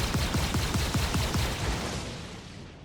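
Spaceship guns on a Hammerhead in Star Citizen fire in a rapid burst of about a dozen loud, booming shots that then fade into a trailing roar.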